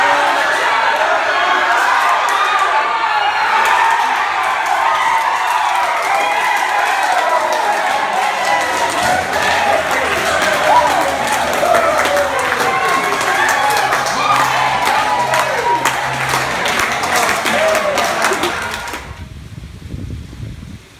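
A crowd at a New Zealand rugby game cheers and claps in a loud, dense, continuous roar for about nineteen seconds before it cuts off abruptly.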